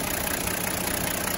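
A 1989 late-model Toyota Land Cruiser 60 with manual transmission idles steadily up close, a dense, even engine rumble with no talking over it.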